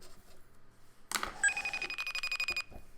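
A telephone rings on an outgoing call to a van driver during a cafe live stream, a steady electronic tone that follows a burst of clatter and holds for about a second before stopping.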